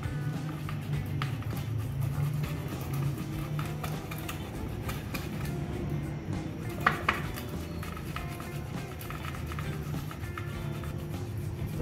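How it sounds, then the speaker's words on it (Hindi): Three boiled, peeled potatoes are grated by hand for crispy potato balls, giving a quiet, continuous rhythm of scraping strokes with occasional light clinks of metal against a dish. "तो इनको हम सबसे पहले कद्दूकस करेंगे।"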